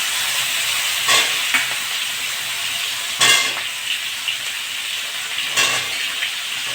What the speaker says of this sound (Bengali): তেলে আমি ফুলকপিগুলো ভেজে নেব।